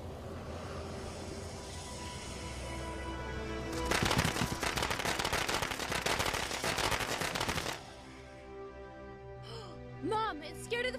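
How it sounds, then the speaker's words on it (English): Fireworks in an animated movie burst in a dense, crackling volley of rapid explosions lasting several seconds, loud and sustained, set between quieter music and followed by voices. "it's scared of the fireworks!"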